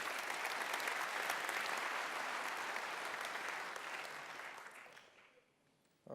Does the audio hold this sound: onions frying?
no